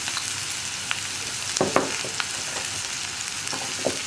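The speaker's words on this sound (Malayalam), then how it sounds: "ഇനി സവോള നന്നായിട്ട് വഴന്ന് വരുന്നത് വരെ നമ്മളൊന്ന് ഇളക്കി കൊടുക്കുക" Onions sizzle in a hot pan as they sauté for egg curry, with a spoon scraping and stirring through them in occasional bursts over a constant bright frying hiss; no one speaks.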